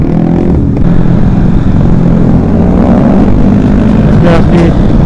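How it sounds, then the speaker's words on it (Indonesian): A 150 cc motorcycle at a Sunday morning group ride near Madasari Beach runs steadily and loudly throughout, its engine drone rising briefly toward the end. "motor Bang Lucky itu"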